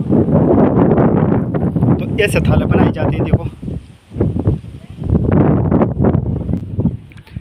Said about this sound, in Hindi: इसमें भी तेज हवाएं चल रही है आज, क्योंकि 1-2 दिन में बारिश आने वाली है।